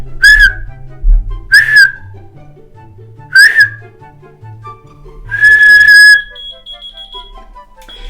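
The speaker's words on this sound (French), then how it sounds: "Et on va siffler." Four short whistled notes, the first three quick rising chirps and the last a longer sustained tone, close and clear with quiet pauses between.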